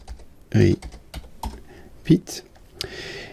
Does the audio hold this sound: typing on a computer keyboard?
yes